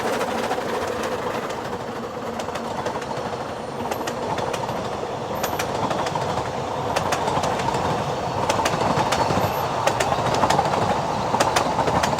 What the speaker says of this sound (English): take a ride on the narrow-gauge Ffestiniog Railway through the mountains of Snowdonia